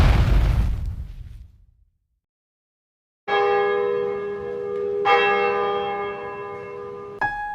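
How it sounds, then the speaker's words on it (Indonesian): Church and cathedral bells ring out loudly for Christmas after a rumbling burst fades to silence, with two strong bell strikes whose tones sustain and overlap, then a third begins. "Lonceng gereja dan katedral berdentang merayakan Natal"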